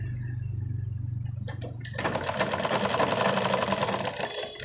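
A sewing machine stitches a seam on a salwar, starting with a low steady motor hum and then breaking into a loud, rapid, continuous needle chatter close by.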